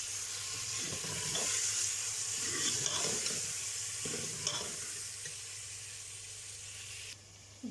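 Chopped tomatoes being stirred into smoky brinjal bharta in a hot pan, a continuous soft sizzle with faint scraping strokes, close and low in level, no talking.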